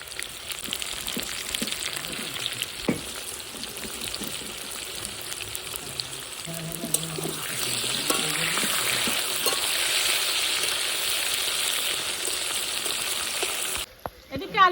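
Potatoes frying in a pan with salt and turmeric, a steady, moderate sizzle with occasional clicks that swells slightly midway, ending in a brief clatter.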